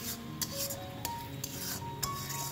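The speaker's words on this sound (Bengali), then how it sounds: "টমেটো বাটাটা দিয়েও আমাদের ভালো করে কষিয়ে নিতে হবে।" Tomato paste and spices are stirred in a pan for chicken capsicum curry, a soft scraping and rubbing of a spoon against the pan with a few light metallic clinks, close and steady with no talking.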